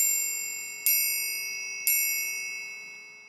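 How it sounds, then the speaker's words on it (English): A metal triangle struck near its bottom gives two bright, ringing hits about a second apart. Each hit leaves long, shimmering overtones that decay slowly, and it sounds close and clear with no talking. "If I want to keep the overtones and I want to have a good shimmer, which is usually what a typical triangle hit is going to want to encompass"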